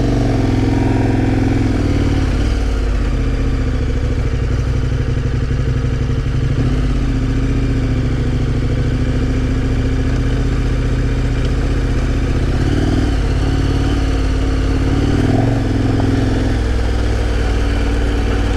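A loud motorcycle engine runs steadily on a backcountry trail near campgrounds, idling and revving unevenly with rattling clatter for a sustained stretch, close to the microphone.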